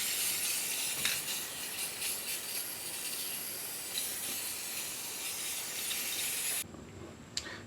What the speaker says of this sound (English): And then I'll set the lower section of the torque box in place and weld it in.